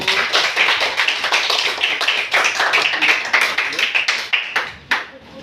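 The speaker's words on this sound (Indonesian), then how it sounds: "Berikan tepuk tangan untuk kelompok 1" Classroom applause for a student group after their presentation: dense, steady clapping from many hands, close and lively, running for several seconds before thinning out at the end.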